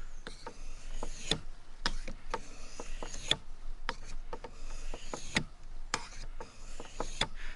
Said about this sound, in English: now try to slice across the top of the stone, keeping that bevel flat